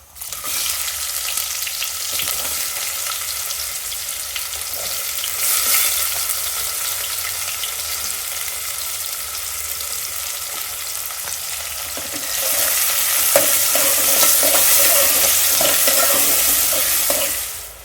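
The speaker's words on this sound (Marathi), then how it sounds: "कांदा चांगला लालसर होईपर्यंत भाजून घ्यायचा" Chopped onion fries with cumin and asafoetida in oil for a traditional Bhogi mixed-vegetable dish, giving a steady, close sizzle throughout. The sizzle grows louder and brighter in the final seconds, with occasional stirring clinks and no voices.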